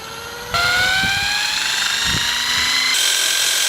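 A heavy gyroscopic wheel is spun up to a few thousand RPM, its loud steady whine rising in pitch after a sudden start, with faint thumps underneath.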